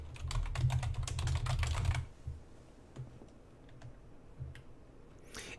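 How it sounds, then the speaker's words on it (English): Rapid typing on a computer keyboard while entering a search term, a dense burst of close keystrokes for about two seconds, then scattered single key clicks in a quiet room. "so I'm just going to type in Pinterest marketing."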